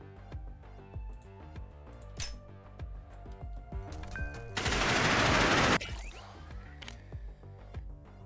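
Machine gun fire in the game Nimrods: rapid ticking shots over rhythmic game music, then a dense, loud, roughly one-second burst of sustained automatic fire, followed by a few more scattered shots.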